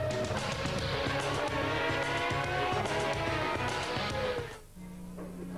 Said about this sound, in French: Découvrons maintenant le circuit d'Interlagos avec Ayrton Senna en personne à bord de la Williams Renault